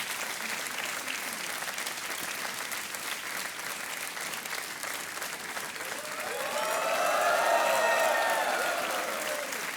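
Steady television quiz show studio audience applause fills the whole stretch, swelling louder toward the end with a few cheers rising over the clapping.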